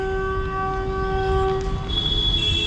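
A train rumbles steadily across a bridge near Kashi railway station as it departs, with a sustained tonal whine and horn-like tones over the low rolling noise, close and loud.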